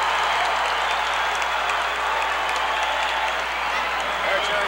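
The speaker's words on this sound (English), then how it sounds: "Listen to the crowd." Roller derby arena crowd cheering and applauding in a steady, dense roar that fills the whole stretch, with a commentator's voice mixed into the din.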